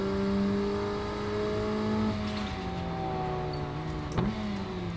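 A race car engine in Assetto Corsa on a Shutoko Revival Wangan server drones loud and steady, its pitch sliding gently down and up under load, with a brief sharp blip near the end and no talking.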